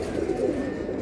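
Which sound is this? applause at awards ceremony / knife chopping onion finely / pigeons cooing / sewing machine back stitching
pigeons cooing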